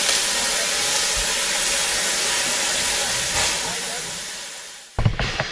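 Steam train on the Kent & East Sussex Railway, a sustained hissing rush of steam and rolling motion that fades, then a sharp clattering burst near the end.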